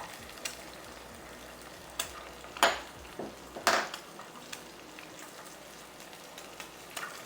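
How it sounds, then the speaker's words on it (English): An egg frying in a pan and being stirred with a utensil, a steady soft sizzle under several sharp scraping clinks of metal against the pan, close and without talk. "I can just crack my egg right in there with it."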